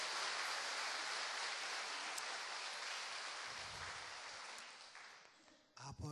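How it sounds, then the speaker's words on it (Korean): A church congregation claps together loudly at a Korean worship service, a dense, steady wash of applause that holds strong for several seconds and then thins out toward the end. "우리 하나님께 감사의 영광의 박수로 힘차게 합시다"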